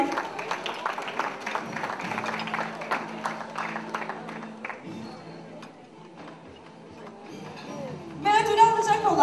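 An audience at a 2006 music awards ceremony breaks into applause as a guest is called to the stage, with scattered clapping sounding under a presenter's voice and music.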